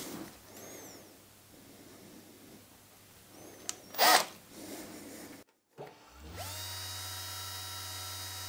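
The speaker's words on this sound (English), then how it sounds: "get the grinding wheel back in position." Bench grinding wheel shaping a wire needle held in a pin vise, a short bright grinding burst amid quiet workshop noise, followed by a motor spinning up and humming steadily.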